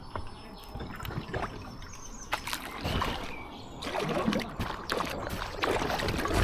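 An ultralight packraft is set onto the water, with soft splashes, paddle knocks and trickling against a quiet outdoor background, while birds call faintly in the distance.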